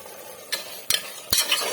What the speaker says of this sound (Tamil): இப்போ மட்டன் போட்டு மட்டன் நல்லா இந்த மசாலாவில் ஒரு 2 நிமிஷம் நல்லா வேகட்டும்.